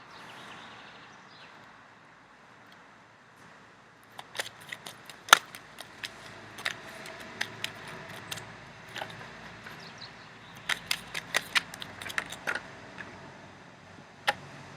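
Soft, irregular flicks and snaps of tarot cards being shuffled, sparse at first and then in quick clusters over a low, steady background hum.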